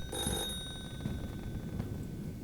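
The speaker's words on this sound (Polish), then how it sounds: "Dzwoni telefon." Telephone ringing in a room, a bright electronic trill repeating in short bursts over a low background hum, moderately loud.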